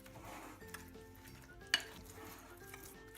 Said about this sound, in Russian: И все тщательно размешиваем